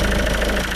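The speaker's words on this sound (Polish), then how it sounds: "No, fajny dieselek. Ładnie szemrzy." Ford Mondeo 2-litre 150-horsepower diesel engine idling close by, a steady, even low-pitched chug with a fine rhythmic clatter and no voices.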